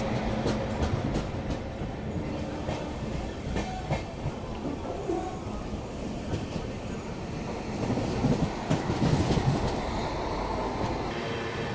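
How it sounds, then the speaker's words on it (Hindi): A Duronto Express train running and overtaking the Golconda Express, heard from aboard with a continuous loud rumble and rhythmic clatter of wheels over rail joints throughout. "गोलकोंडा एक्सप्रेस को हम लोग ओवरटेक भी कर रहे हैं यहाँ पे।"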